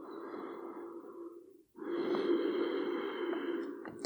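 Slow, deep breathing during a yoga exercise: a long audible exhale, a brief pause, then a fuller breath in and out, close and clear with no talking.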